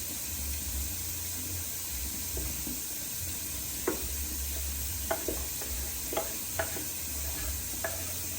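Shallots and garlic sizzling in melted butter in a pan for Italian-style mussels, a steady soft hiss broken by several sharp clicks and scrapes of stirring, close and fairly quiet with no talk.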